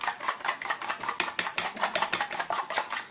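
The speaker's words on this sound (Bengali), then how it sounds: "একটু জোরালোভাবেই নাড়াচাড়া দিবেন, যাতে ডিমের কুসুম এবং সাদা অংশটা একসাথে মিক্সড হয়ে যায়।" Raw eggs whisked hard with a spoon in a bowl for a cake batter, a fast steady run of close scraping, clicking strokes with no pauses and no talk.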